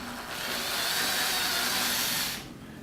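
A power drill whirs for about two seconds, spinning up and winding down nearby as it drives in a screw with a hex shank bit.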